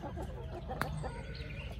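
Hens, likely including a Rhode Island, cluck softly in short scattered calls against steady low background noise, with one sharp click partway through.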